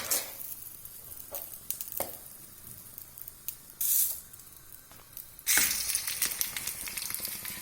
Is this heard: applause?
no